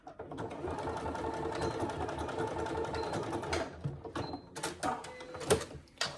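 Sewing machine stitching a fabric saddle bag's binding closed, a steady fast mechanical run for several seconds, then stopping, followed by short knocks and handling sounds.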